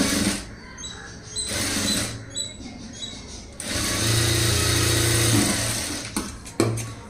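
A sewing machine stitches a front-gap blouse in bursts of whirring, one short run followed by a longer steady stretch, with quiet pauses and handling clicks between.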